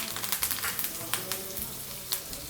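Mustard seeds, cumin, asafoetida and chopped curry leaves fry in hot oil for a Telugu bread bonda snack, giving a steady close crackle with sharp popping spatters throughout.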